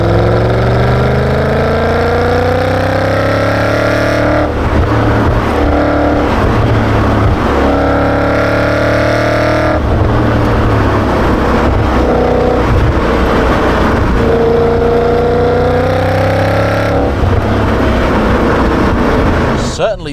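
BMW E39 M5 engine pulling strongly through the low and mid rev range while driving, with repeated rising revs and gear-change dips, loud and close throughout, with a voice talking over it.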